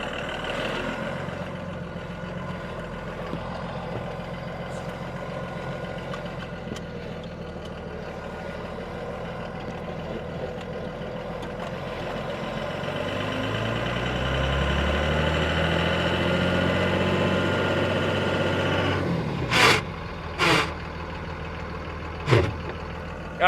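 A truck with a six-speed manual transmission idles with a steady rumble, then its engine note swells and drops as it starts out in four low, followed by a few sharp clunks near the end.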